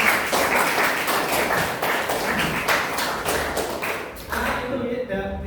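A classroom group claps for a student team after a maths presentation, a steady, fairly loud patter of hands that thins out toward the end.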